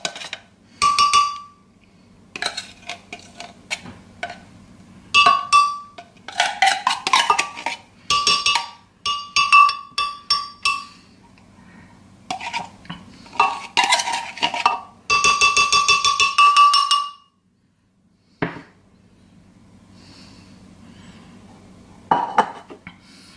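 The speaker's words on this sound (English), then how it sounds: "I'm using the spoon to take all that condensed milk out." Metal spoon scraping condensed milk out of a can, with repeated clinks and scrapes in irregular bursts, close and fairly loud, broken by brief pauses.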